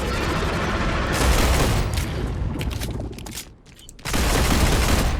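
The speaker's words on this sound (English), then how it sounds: "Alright, shoot him in the leg." Gunfire in the video game Star Rupture, a dense sustained volley of loud close shots aimed at an enemy's leg, which thins briefly before the shooting resumes at full force.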